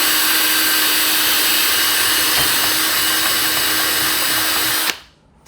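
A power drill whirs steadily at high speed for several seconds, then abruptly stops and winds down into quiet.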